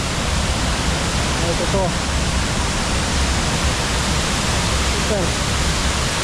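Steady, full rushing roar of the muddy Erzen river surging through the narrow Holta canyon in Albania after rain, continuous and close, with a man's brief remarks over it.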